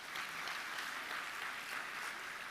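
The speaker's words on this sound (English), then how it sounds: "Please clap for them." Faint, distant applause from an audience at a tech innovation week in Nairobi, a steady wash of clapping heard alone without talk.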